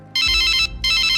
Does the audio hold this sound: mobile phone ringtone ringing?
yes